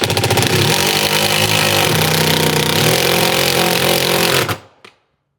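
A power drill runs loud and steady for about four and a half seconds, driving screws through a metal railing bracket held against a wall, then stops abruptly with a brief final whir.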